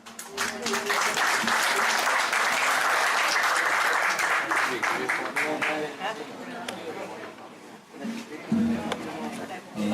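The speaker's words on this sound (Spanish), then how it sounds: "Lo recibimos con un fuerte aplauso." An audience at a storytelling event on colonial legends in Guayaquil bursts into loud applause to welcome guests, sustained dense clapping with crowd chatter beneath, fading toward the end as a voice begins.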